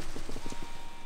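Horse enemy's hooves in the Salt and Sanctuary video game: a quick run of several clip-clop footfalls in an even rhythm, moderately loud against steady game background, with no talk.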